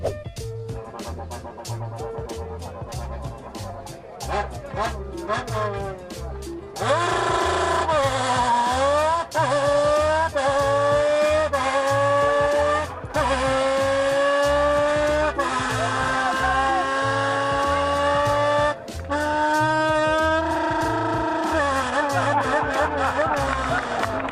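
A buzzing, whining imitation of a rally car engine made with a beer can, rising and falling in pitch as if shifting gears and speeding past on a circuit, loud and close.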